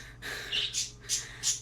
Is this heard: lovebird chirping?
yes